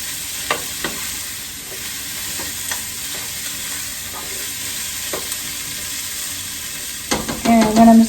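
Leftover meat being stirred in a frying pan, with steady sizzling broken by scattered scrapes and taps of the utensil, and a louder clatter near the end.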